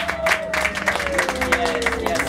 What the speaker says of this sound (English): Let's give Ty a round of applause.